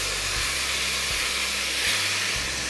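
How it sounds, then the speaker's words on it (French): Lamb and onions browning in a hot pan give off a steady, close hissing sizzle that holds evenly throughout, with a low hum beneath and no talking. "On laisse 2-3 minutes dorer l'agneau et les oignons qui sont avec"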